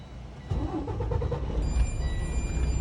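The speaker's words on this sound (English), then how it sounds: "All right, now I will start the vehicle." A truck engine cranks and catches about half a second in, then settles into a steady, close idle rumble with no talking.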